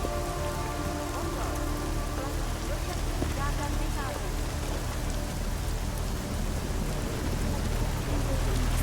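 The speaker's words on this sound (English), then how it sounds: "Damn rain isn't helping things." Steady rain pours down in the video game Deus Ex: Mankind Divided, a dense continuous hiss of drops hitting surfaces that stays loud and even throughout, with no talking.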